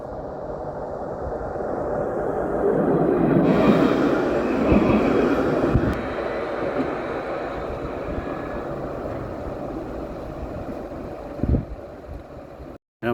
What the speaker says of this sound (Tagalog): may paparating na tren.